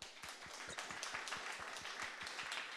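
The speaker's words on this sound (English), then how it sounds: "Round of applause." An audience gives a brief round of applause after a tech talk, with soft, steady clapping spread evenly across the room.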